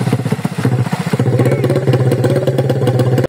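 A newly built Rusi TC125 motorcycle engine runs right after its first start, a loud close single-cylinder putter with fast even pulses and a slight rise in revs before it stops abruptly.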